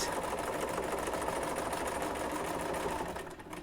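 A sewing machine stitches a quilt block seam in a steady, rapid run of needle strokes, moderately near and continuous for a few seconds before slowing at the end, with no talking.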